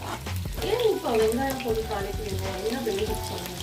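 Onion frying in oil in a pan for a red radish dal sambar gives a continuous sizzle with occasional stirring, while a person talks steadily over it.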